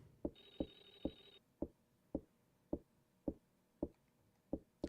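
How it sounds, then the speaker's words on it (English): In the horror game Clock Tower: Rewind, a short electronic telephone ring sounds at the start, then a steady series of dull, evenly spaced thuds continues alone in a quiet room. "I don't know if that is that supposed to be a phone."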